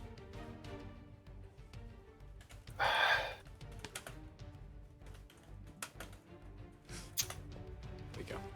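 Someone types on a computer keyboard during a tabletop role-playing game session, with soft, irregular key clicks and the occasional louder tap at a low, close level, without speech.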